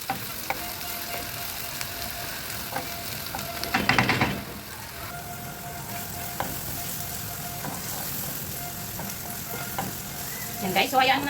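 Four medium onions sizzle steadily in hot oil in a pan, a continuous close frying hiss with occasional scraping stirs and clatters of a utensil against the pan.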